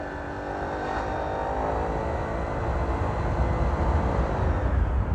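A Honda PCX automatic scooter with a custom exhaust and modified fan runs at quarter throttle on an uphill climb, giving a steady droning engine hum with a faint whine that swells slightly louder toward the end, no talk.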